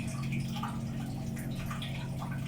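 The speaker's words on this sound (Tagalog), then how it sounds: "Umandar na yung motor. Saka, uh, lumalabas na yung tubig." A small submersible pump motor hums steadily while seawater pumped from a boat's engine room splashes and trickles out continuously; no one speaks.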